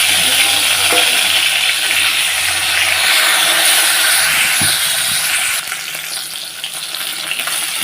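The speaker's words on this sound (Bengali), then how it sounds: "এখন মাছগুলোকে ভেজে নিচ্ছি" Fresh shol (snakehead) fish pieces, heads included, fry in hot oil with a loud, dense, continuous sizzle close by. The sizzle eases slightly toward the end, and a faint low hum sits underneath early on.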